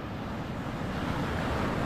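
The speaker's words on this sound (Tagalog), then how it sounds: "Lalaki ngayon ng alon." Large ocean waves rolling and crashing near a boat at sea, a steady loud roar of surf mixed with wind buffeting the microphone, with no voices.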